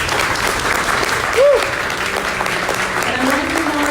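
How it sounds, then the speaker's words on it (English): A room full of volunteers at a congressional canvassing event breaks into a steady round of applause, dense clapping throughout with a brief whistle-like tone partway through. "Give them a round of applause."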